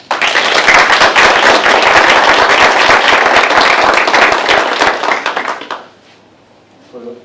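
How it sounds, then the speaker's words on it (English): A large audience at a school SCRUB ceremony bursts into loud, dense applause with scattered cheers, sustained for nearly six seconds before fading out, leaving a quiet tail where a voice begins. "you want to applaud yourselves"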